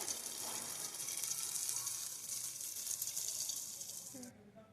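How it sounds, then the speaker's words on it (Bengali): Mihidana gram flour batter deep-frying in hot oil, a loud, steady, close hiss of sizzling bubbles that holds without break and cuts off abruptly near the end. "আবারও আরেকটা ব্যাচ ভেজে নিচ্ছি এভাবেই দেখুন কত সুন্দরভাবে কিন্তু ফুলে ওপরে উঠছে"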